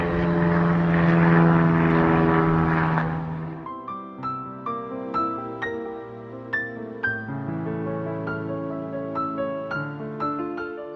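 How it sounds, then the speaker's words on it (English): A private propeller airplane drones loudly overhead for a few seconds, then the engine noise gives way to music with distinct, rhythmic plucked notes. "A private airplane."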